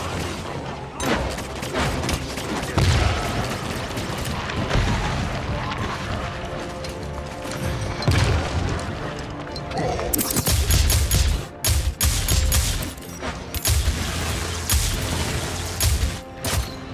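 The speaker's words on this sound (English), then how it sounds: "They keep shooting!" Rapid bursts of gunfire and booming weapon blasts from the hero shooter Paladins, dense and loud throughout, with sharper volleys and explosive hits in the second half.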